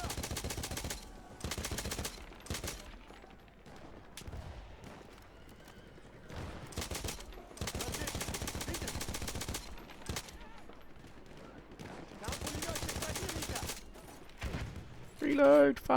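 Repeated bursts of light machine gun fire in Battlefield 1 on the Tsaritsyn map, loud and close, with short pauses between volleys and a horse whinnying near the end.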